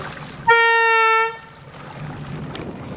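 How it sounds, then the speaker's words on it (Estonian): An escort boat's horn gives one loud, steady toot lasting under a second on an open river during a long-distance swim, followed by low background noise from the water and the boat. "Kui sa nüüd korraks pasundaks?"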